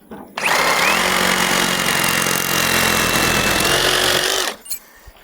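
A power tool whines loudly and steadily for about four seconds as it cuts through a plastic conduit sweep on a shop build site, starting and stopping abruptly, with no talk.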